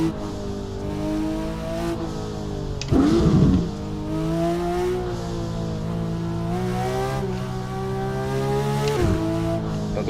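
A pro-charged Porsche GT3 RS engine revs hard in the Assetto Corsa racing game, with a loud, continuous, harmonic engine note rising and falling through the gears and a brief rough burst partway through.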